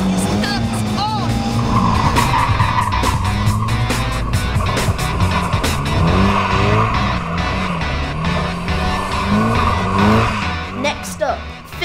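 Car tires squeal and skid repeatedly over a revving engine as the car spins in circles, with people talking over the noise.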